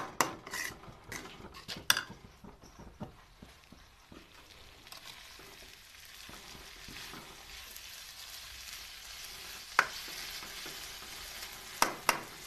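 Cluster beans frying with green chillies and garlic, a soft continuous sizzle broken by sharp clanks of a spatula against the pan, loudest at the start and in a few later knocks.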